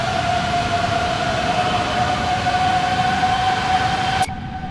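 Airbus A330 jet engines in X-Plane 12 give a steady, loud droning whine with sustained high tones over broadband rumble, cutting abruptly quieter near the end.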